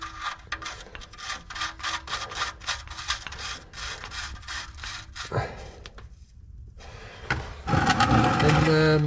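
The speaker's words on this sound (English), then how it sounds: "I'm just gonna kind of wipe off around here and then put my drain plug back in." A rag rubs and wipes around the oil drain plug of a big-block square-body Chevy truck, a repeated scrubbing rhythm close up, then a louder rustle and shuffle near the end.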